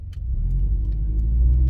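Car engine rumbling steadily from inside the cabin as it drives around a roundabout, a continuous low drone with no talking.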